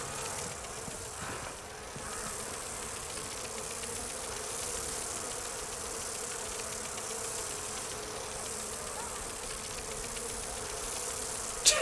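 Constant droning buzz of a bee swarm in the fantasy video game Dragon Age Inquisition, loud and unbroken over the whole stretch with a faint engine-like hum beneath.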